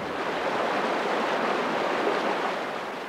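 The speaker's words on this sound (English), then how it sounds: "All the rain has swelled the River Lavant to about 4 times its normal size." The flood-swollen River Lavant rushes past at about four times its normal size, a dense, continuous roar of water heard up close and alone.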